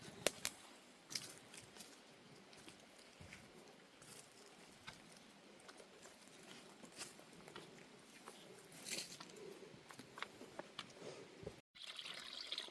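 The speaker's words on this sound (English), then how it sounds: "Look how nice that spout is in a water source that is barely flowing." Water trickling from a leaf spout at a barely flowing trailside source, a faint steady dribble with scattered soft patters and ticks, close by and quiet, with no talk over it.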